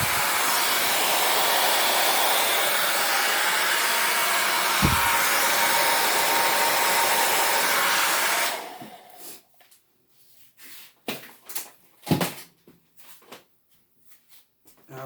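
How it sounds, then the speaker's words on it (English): A blow dryer blows steadily and loudly over acrylic paint poured on a ceramic tile, a continuous broadband rush for about eight seconds before cutting off, leaving only faint scattered clicks and handling noises. "What I'm trying to do with the blow dryer there is break up some of that white"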